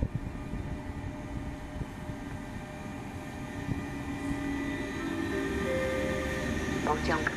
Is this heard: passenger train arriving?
yes